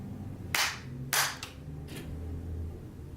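Two sharp hand claps, the second a little harder, ring out close by in a quiet indoor room and switch off the lights. A fainter follow-up snap trails after them over a low background hum.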